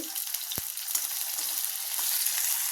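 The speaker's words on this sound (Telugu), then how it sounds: "ఇప్పుడు అదే నూనెలో దొండకాయ ముక్కలు ఫ్రై చేసుకుందాం" Ivy gourd (tindora) pieces fry in hot oil with a steady, dense crackling sizzle throughout, plus one brief sharp knock near the start.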